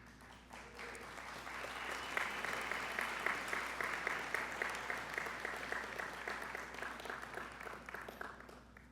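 A crowd applauds at an Army memorandum of understanding signing ceremony, with dense sustained clapping from many hands that swells after the first second and holds steady for the full nine seconds, no voices over it.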